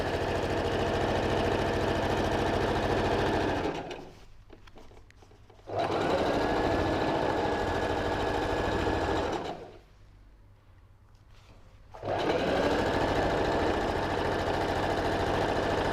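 A sewing machine stitches brushed leather trousers with an 11-14 needle, running in three long, loud bursts with two short pauses between them.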